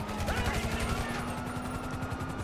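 Steady rapid rifle fire in GTA V rattles on throughout at moderate distance, a continuous stream of shots over a constant background hum.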